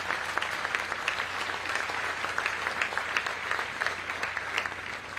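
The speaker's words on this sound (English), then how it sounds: "Round of applause for that." An outdoor groundbreaking ceremony for the Cleveland Clinic Global Peak Performance Center draws a sustained round of applause, many hands clapping in a continuous, crackling wash at moderate distance without letting up.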